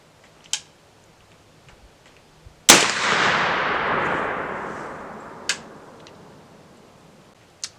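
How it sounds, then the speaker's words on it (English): A single loud muzzleloader shot fired with a 50-grain charge of 3F black powder at a 25-yard target, a sharp crack followed by a long decaying boom, with a few faint clicks before and after. "shot number 2 with 50 grains of 3F at 25 yards"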